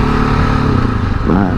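A KTM 690 Enduro single-cylinder motorcycle runs off-road on the Soo Line trail in Minnesota, a close, loud, steady engine drone whose pitch rises briefly near the end as it revs.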